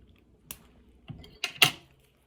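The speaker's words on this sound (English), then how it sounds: "So I just use a small scissors." Small scissors snipping a tight plastic tab on a trach nursing kit, a few faint, close, sharp snips and clicks spread over two seconds in a quiet room.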